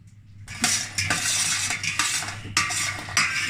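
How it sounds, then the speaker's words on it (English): A spoon scrapes and clinks in a pan of rendered pork lard crackling (Hungarian töpörtyű) as salt and pepper are stirred in, with repeated metallic scrapes over a soft frying hiss, close and fairly loud. "Just stirring in the flavourings."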